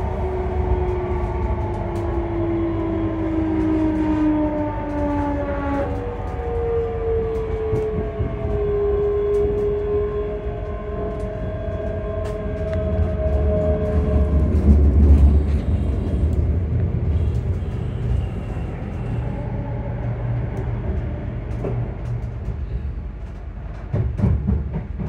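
A train approaching Edinburgh Waverley, its final stop, rumbles steadily along with a low, constant roar, while sliding tones drift downward early on and clattering swells in the middle.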